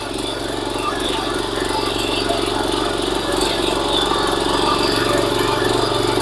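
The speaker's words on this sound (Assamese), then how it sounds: "দমদাৰ এটা শক্তিশালী ইটালী ইঞ্জিনৰ হয়" A mini power tiller with a powerful Italian engine ploughs a farm field, its engine running in a steady, loud, rattling drone throughout with no break.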